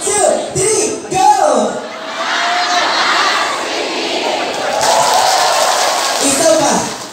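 A loud, energetic crowd at a barangay community program in Pioduran, Albay cheers and shouts continuously for several seconds, with whoops and bellowing voices swelling and sustaining throughout.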